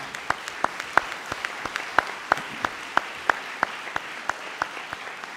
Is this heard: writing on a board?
no